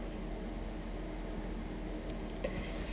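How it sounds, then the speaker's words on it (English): Vegetables in a pan are stirred with coriander and red chili powder, giving a steady soft sizzling hiss and a faint scrape or two, close and even throughout with no talking. "Then we're going to mix it well."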